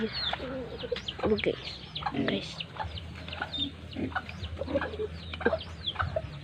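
A chicken clucks in short, irregular bursts amid scattered farmyard noise, fairly close, while someone talks over it now and then.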